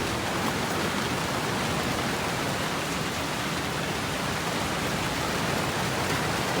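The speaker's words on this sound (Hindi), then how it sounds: "आधे घंटे से बारिश हो रही है" Steady, even pre-dawn rain pours down continuously, a dense hiss with no pauses or other sounds standing out.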